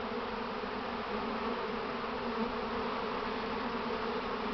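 An April swarm of honey bees hums in a dense, unbroken buzz, loud and steady throughout with no voices over it.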